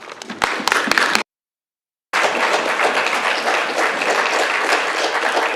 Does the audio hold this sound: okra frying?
no